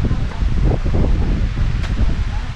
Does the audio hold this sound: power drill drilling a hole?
no